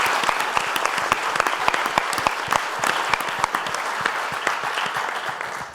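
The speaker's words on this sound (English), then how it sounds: "a round of applause to all of our speakers" A conference audience at a marathon medicine event applauds its speakers, with crisp individual claps standing out in steady, fairly close applause that lasts the whole stretch and fades slightly at the end.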